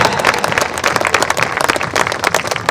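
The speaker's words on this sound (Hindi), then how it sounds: "तालियां इतनी बजाई है कि ये राष्ट्रीय आंदोलन का एक मुद्दा है।" An audience at a Hindi comic poetry recital in Bilaspur, Chhattisgarh, bursts into loud, dense applause, a close, continuous wash of many hands clapping with faint crowd murmur beneath.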